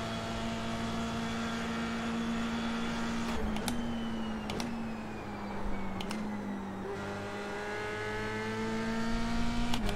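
An F3 race car engine in iRacing drones at high revs with a steady tonal whine, pitch dipping briefly at several gear shifts before climbing again, close and continuous with no voices.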